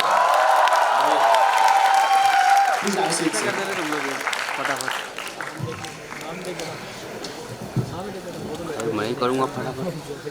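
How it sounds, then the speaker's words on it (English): A college audience bursts into applause and cheering that fades out after a few seconds, followed by people talking over lingering crowd noise. "huge applause for them"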